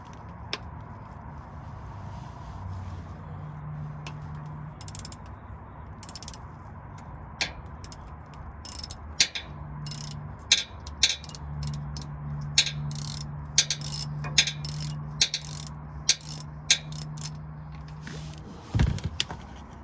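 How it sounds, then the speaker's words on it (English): A 1/4-inch drive ratchet loosens the oil drain plug on a 2021 Toyota Tacoma TRD Off Road, producing bursts of close, sharp pawl clicks over a low mechanical hum. "we're gonna go get the 1/4-inch drive to get that unplugged first"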